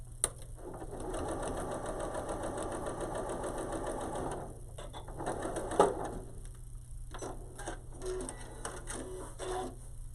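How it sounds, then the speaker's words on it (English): Sewing machine stitching a quarter-inch seam on a quilt block, a steady close whir for several seconds, then a pause with a clunk and shorter bursts of stitching. "So I'm going to sew on that side because I want to make sure that I hit my 1/4 inch seam."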